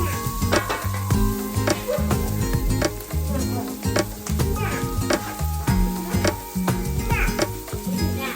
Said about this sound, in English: I threw in the onion that I had just chopped up and just sauteed that with the pork chop drippings as well as a little bit of lard